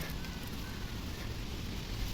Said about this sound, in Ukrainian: Ось бачите, як березки шумлять.